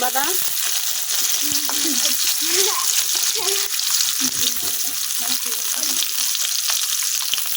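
Onion, garlic and a little ginger sizzle in hot oil in a wok, a loud steady frying crackle with stirring scrapes, while a voice speaks over it.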